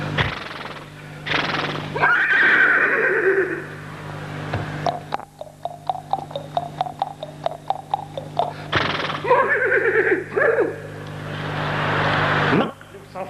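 Horse neighing during a stage comedy skit: two long, shrill whinnies, one near the start and one near the end, with a run of rapid rhythmic snorting pulses between them, all set over a steady low background hum.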